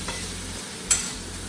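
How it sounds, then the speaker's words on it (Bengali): Potatoes and radish pieces fry in a pan with a steady soft sizzle, broken midway by one sharp clatter of a spatula. "আলু মূলোটা একটু ভাজা হচ্ছে"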